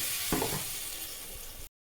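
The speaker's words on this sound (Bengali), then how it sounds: "সব উপকরণের সঙ্গে যখন পনিরটা খুব ভালো মতন ভাজা হয়ে যাবে তখন আমি এর মধ্যে একটুখানি গরম জল" Hot water poured into a pan of paneer frying with other ingredients sets off a brief, loud hissing sizzle that cuts off abruptly after under two seconds.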